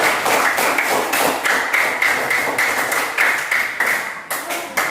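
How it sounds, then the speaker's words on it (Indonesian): A classroom of pupils claps hands together in loud, close, rhythmic bursts of clapping that repeat across the whole stretch. "Tepuk tangan dulu untuk semua."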